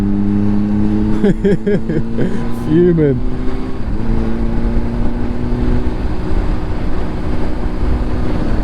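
A motorbike engine, ridden as a cruiser, revs several times in quick succession with rising and falling pitch, loud and close, then settles into a steady drone under wind rumble while someone talks briefly.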